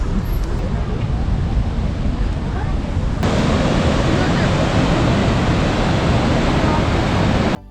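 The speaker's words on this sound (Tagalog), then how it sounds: "The Hoka Falls are the largest falls on the Waikato River, near Taupo on New Zealand's North Island." Huka Falls on the Waikato River near Taupo, New Zealand, roars as a dense, continuous rush of falling water, loud and close, swelling fuller after a few seconds with no talk over it.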